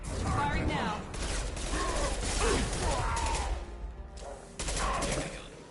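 Rapid automatic weapons fire from Mass Effect 2 combat, dense bursts of gunfire with mechanical clatter filling most of the stretch, briefly pausing before another burst.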